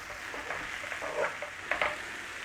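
Oats browning in a pan for sausage and cider stuffing, stirred with a steady soft sizzle and a few brief scraping bursts, close and fairly quiet.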